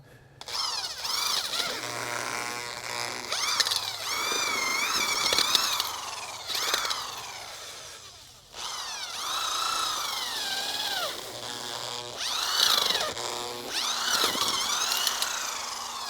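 A power drill drives a bit down into garden soil, boring 7-inch-deep planting holes for flowering allium bulbs. Its motor whines steadily with wavering squeals, running in long bursts and pausing briefly partway through.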